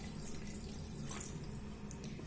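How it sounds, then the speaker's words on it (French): Half a litre of water pours from a tap into a pot for fruit juice, making a steady, soft hissing rush throughout, close and fairly quiet. "je vais mettre un demi-litre d'eau."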